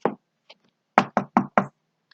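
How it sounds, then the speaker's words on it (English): Knocking on a house door: a brief tap, a faint knock, then four crisp, evenly spaced loud knocks, close and alone. "Knock, knock."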